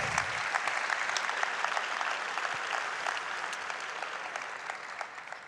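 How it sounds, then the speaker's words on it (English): A conference audience at a student commitments event applauds in a steady, dense roar of clapping that carries on throughout without a break, near and loud. "give a round of applause to yourselves for all of your energy, your enthusiasm, and your optimism"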